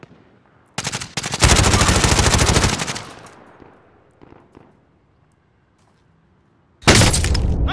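Rapid automatic gunfire in Call of Duty: Modern Warfare bursts loud for about two seconds, dies away to quiet, then another burst erupts near the end.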